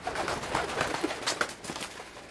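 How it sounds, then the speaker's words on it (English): Seagulls in the indie horror game No One Lives Under The Lighthouse, a few soft, scattered bird calls and coos at low volume over a faint ambient background, with no speech. "I literally just got jump scared by the seagulls who were jump scared by me and ran away"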